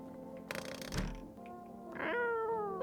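A cat meows in a video game, a drawn-out close meow with a rising then falling pitch, preceded by a brief noisy rustle.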